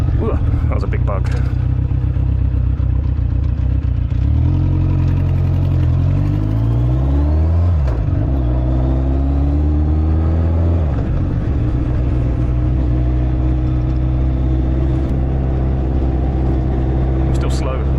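An air-cooled motorcycle running as it rolls slowly along, its engine droning loud and steady with pitch rising and falling as it changes speed, while a rider talks over it.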